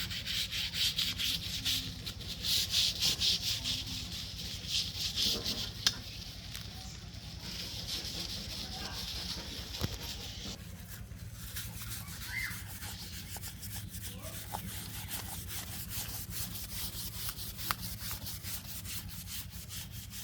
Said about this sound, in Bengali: দেখুন যেভাবে ঘষে নিব যে সাদা অংশ হয়েছে